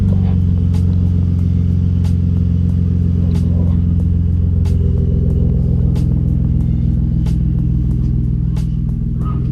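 A car fitted with a new exhaust idles with a loud, steady low burble and rumble, close up and continuous, with faint ticking above the drone.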